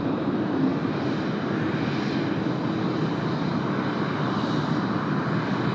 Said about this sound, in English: There she is, 9 hours, 48 minutes of flight time in from Seoul.